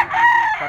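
A bullstag rooster, a young gamecock about 18 months old, crows once in a single loud, close call that lasts under a second, with its pitch holding steady and then trailing off at the end.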